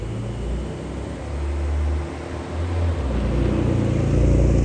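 A Porsche 911 Carrera S flat-six engine idling and running with a low steady rumble and hum that swells slightly, heard from inside the car, with no talking.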